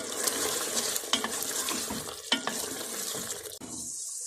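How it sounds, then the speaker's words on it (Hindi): Chicken seasoned with garam masala fries in a pan, giving a steady close sizzle with occasional scraping stirs, alone without any talking. "चिकन को मैंने अच्छी तरह भून लिया"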